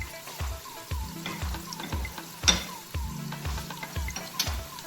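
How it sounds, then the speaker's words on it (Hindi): Chopped green chillies frying in hot oil alongside ginger and spring onion, a bright steady sizzle punctuated by regular rhythmic clacks of a spoon stirring against the pan, close and clear. "अब हम इसमें डालेंगे 2 सब्ज़ मिर्चें कटी हुई"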